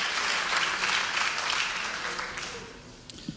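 Applause at a fall athletic banquet honoring a coach and the girls tennis team, a full room of clapping that gradually thins and fades over a few seconds.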